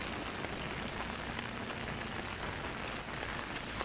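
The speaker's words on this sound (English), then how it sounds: "It's a strong rain now." Heavy rain pours steadily, a dense continuous hiss of drops hitting surfaces with no voices.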